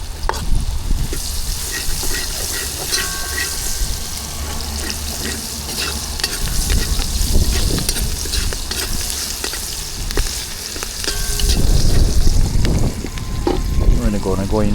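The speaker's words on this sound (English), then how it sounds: "Then we go in with some onions." Onions sauté in a hot pot for a Trinidad curry, a steady sizzle with stirring scrapes and a brief run of water near the end.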